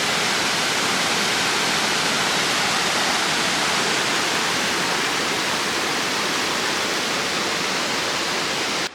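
Waterfall inside a cave, a dense steady roar of falling water that fills the space evenly from start to finish without any voices.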